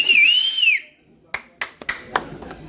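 A loud, near, rising-and-falling whistle from an audience member, then silence and a few scattered hand claps.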